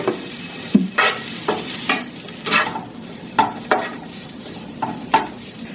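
Small fatty meat end pieces sizzle in a hot pan while a utensil pushes them around, giving a steady fry hiss broken by about a dozen distinct scraping and clacking strokes, close and fairly loud.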